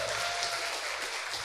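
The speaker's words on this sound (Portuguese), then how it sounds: "Uma salva de palmas para eles." A church congregation claps together, a thick, even burst of applause that holds steady and close for a moment before tapering slightly.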